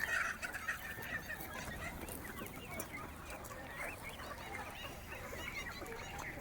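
Free-range native chickens in the morning, many overlapping clucks and calls from a flock, faint and steady throughout like a busy yard heard from a little distance.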